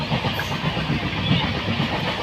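A train rolls along, heard from inside a passenger carriage as a steady low rumble with faint rhythmic clatter and no voices.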